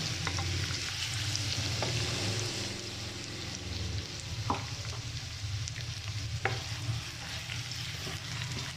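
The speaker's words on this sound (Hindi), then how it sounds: "अब ये प्याज फ्राई हो रहे हैं" Chopped onions frying in preheated cooking oil for matar pulao, a steady soft sizzle and crackle throughout with occasional sharper pops and spatters, fairly quiet and without talk.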